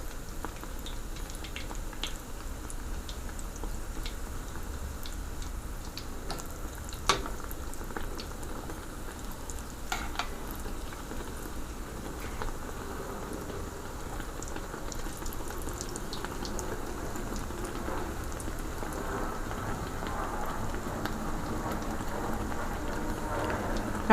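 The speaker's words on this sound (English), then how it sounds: "Now I'll let it fry on the other side a little and it finish" Bara, a saltfish bake dough, frying in a pan: a steady, soft crackling sizzle that runs for the whole clip, with faint pops and no talking.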